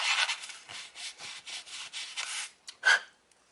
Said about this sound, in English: Just going to give it a little quick sand.